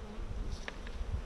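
Honeybees in a shipping package buzz at close range during a beekeeping lesson, a steady low drone with a few brief higher whines from individual bees.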